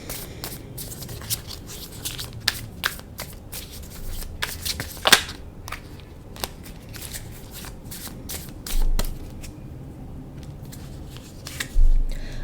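Tarot cards are shuffled and pulled in a close, dry run of riffling flicks and snaps, with scattered sharp card taps and a few soft thumps.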